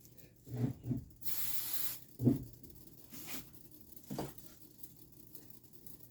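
A spray can gives a single short hiss of about a second onto a waffle weave kitchen towel, close and fairly quiet, between soft handling noises and taps.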